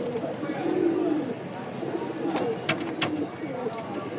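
Rajshahi Giribaz pigeons coo softly and repeatedly at close range, with some sharper bird calls and a voice speaking over them.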